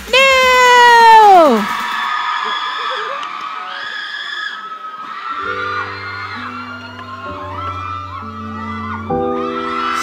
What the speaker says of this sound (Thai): ส่งเสียงกรี๊ดดังๆค่ะ